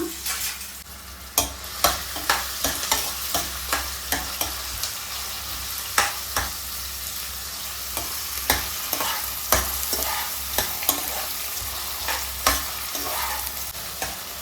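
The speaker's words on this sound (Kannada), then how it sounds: "ಸೊ ಫಸ್ಟು ಹಸಿಮೆಣಸಿನ್ಕಾಯಿ ಮತ್ತು ಈರುಳ್ಳಿ ನೀಟಾಗಿ ಫ್ರೈ ಆಗಲಿ" Green chillies and onions fry in a pan for a village-style chicken sambar: a steady sizzle runs throughout, broken by repeated scraping stirs of a spoon at an uneven rhythm, close and fairly loud.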